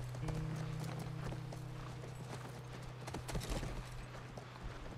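Horse hooves clip-clopping in The Last of Us Part 1, a run of irregular hoof strikes over a low steady hum and ambient game sound, moderately close with no talk.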